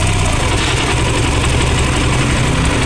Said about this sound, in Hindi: गाड़ी बाइक स्टार्ट होने लगा